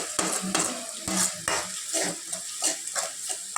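A spoon stirs a masala mixture in a pan for tomato rasam, giving close, rhythmic scraping and clinking strokes against the metal over a soft background sizzle.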